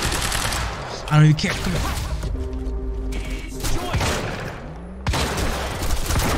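Rapid gunfire in the video game Quantum Break aimed at the player, with loud bursts and clattering impacts at the start and end and a quieter middle, while someone talks over it.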